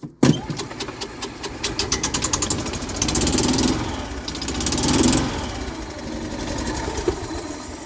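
An engine cold-starts with a sharp crank and catch, then settles into a loud, steady, close idle with a rapid rhythmic pulse, rising slightly a couple of times.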